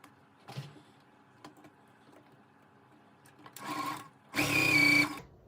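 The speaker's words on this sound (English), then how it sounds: "Now I need to sew this." A sewing machine stitches quilt strips in short bursts, a faint whir, then louder, closer runs of about a second each near the end, with small clicks between them.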